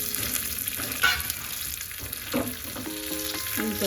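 Curry leaves and chillies, both green and dried, sizzle steadily in hot oil for a radish chutney tempering, a close, continuous crackle with a few louder spits and some stirring.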